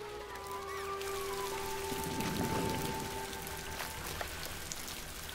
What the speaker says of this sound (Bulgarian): Не можем да летим в дъжда, ливадата е наводнена.